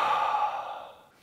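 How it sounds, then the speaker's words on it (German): Deep belly breath during ice-bath breathwork: one long, audible exhale, close and fairly loud, airy and steady, fading out toward the end with no talking. "dann atmet ihr so einschnaufen, Bauch, Brust, Kopf und ausschnaufen"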